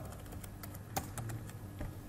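Keystrokes on a computer keyboard while a PHP command for installing Composer is entered, a quick uneven run of close, fairly soft clicks with one sharper tap near the middle.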